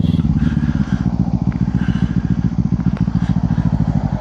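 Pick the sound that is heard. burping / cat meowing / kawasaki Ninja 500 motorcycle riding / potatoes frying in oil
kawasaki Ninja 500 motorcycle riding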